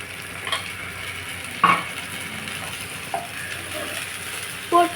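Ginger garlic paste and onions fry in a pan, a steady sizzle with a few louder stirring scrapes and knocks of a utensil, close and without speech.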